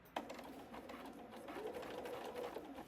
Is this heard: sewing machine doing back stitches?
yes